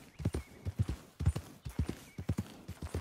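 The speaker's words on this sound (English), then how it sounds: "Not an especially long ride, but gotta bond with our horse a little more." Horse hooves clip-clop at a steady walking rhythm in Red Dead Redemption 2, close and clear, a few soft background sounds and no talk.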